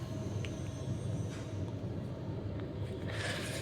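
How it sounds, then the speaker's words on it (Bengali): A train pulling into a station platform, a continuous low rumble and roar of wheels and carriages passing close by, steady and loud, with a faint high squeal near the end. "দেখো আমাদের ট্রেন এসে গেছে"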